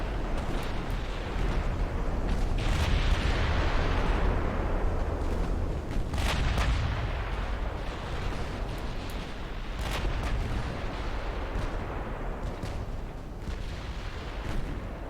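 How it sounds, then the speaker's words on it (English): 16-inch naval guns firing in the Ultimate Admiral Dreadnoughts naval warfare game, a steady heavy rumble of booming salvos with several sharper blasts standing out over the dense low roar, loud and continuous. "I do love the sound of the 16-inch guns. That deep kind of thud."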